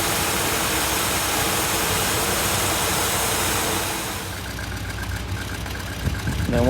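A 1959 Buick with a freshly rebuilt carburetor runs at idle with a steady, rumbling engine drone that eases to a lower, quieter level after a few seconds.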